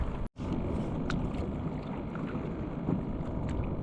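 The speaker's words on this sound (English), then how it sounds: "Let's keep paddling." Kayak being paddled on open water while fishing for tarpon, a steady wash of water and wind noise with faint splashes of paddle strokes, no voices.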